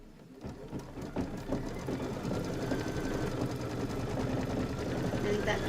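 An embroidery machine stitches a Kimberbell quilt block with a quick, rapid clatter that holds steady throughout, close and fairly quiet, with a voice faintly present.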